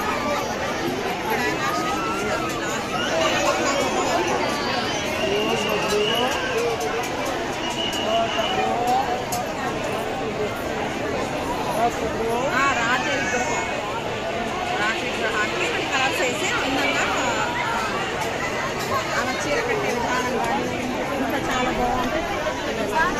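Dense crowd babble fills a packed Hindu temple at Vani, a continuous wash of many overlapping voices with occasional louder shouts nearby, steady and loud throughout.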